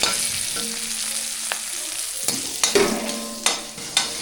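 Green chilies and black pepper sauté in a pan, giving a steady close sizzle broken by several sharp scrapes and clatters of stirring, with no talking.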